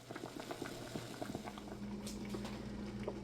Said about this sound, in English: You're going to heat it up to boiling, and it says let it boil for 20 to 30 minutes